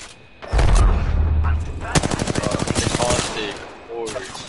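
Rapid automatic gunfire bursts from a video game shooter, loud and close, with a sustained rattling volley mid-clip followed by scattered shots and game sounds.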